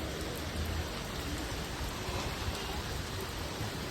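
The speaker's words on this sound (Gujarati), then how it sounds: "તો અહીંયા વરસાદ જોરથી ચાલુ થઈ ગયો છે." Heavy rain falls steadily at Banbha hill near Surat, a dense, continuous hiss of downpour with no voices.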